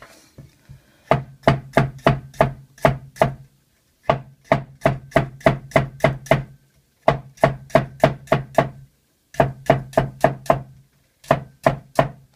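A knife chops carrots on a cutting board in rapid bursts of sharp, evenly spaced knocks, about five to eight strokes each, separated by short pauses.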